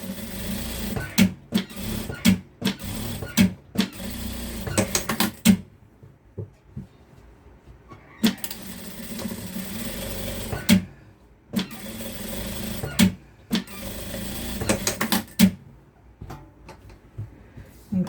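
A sewing machine stitches the ears of a capybara plush toy in repeated short bursts of fast, regular stitching, separated by pauses with small handling clicks.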